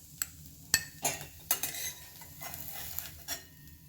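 Sautéed grated carrot is scraped from a pan into a bowl for carrot kheer: a few sharp metal spoon clinks and scrapes at irregular intervals over a quiet background, with no talk.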